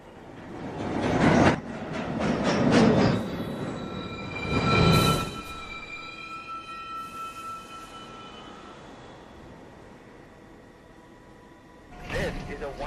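An uptown local NYC Subway 1 train pulls into Fulton Street station: loud rolling rumbles and clatter bursts, then sustained high wheel squeal that lingers and fades, with a final swell of rumble at the end.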